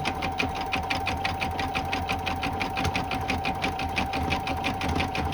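An embroidery machine stitches steadily, its needle tapping in a fast, even rhythm over a constant motor hum, close and alone without any talk.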